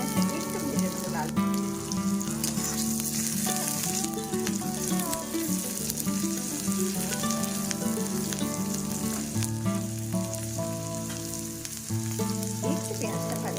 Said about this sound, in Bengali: পেঁয়াজটা একটু ভেজে দেবো লাল।